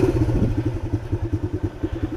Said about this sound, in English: I can still feel the engine, feel a misfire in the engine when I hit the gas hard.